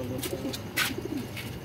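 Soft, low pigeon coos murmur close by, mixed with a few brief scuffing or fluttering noises.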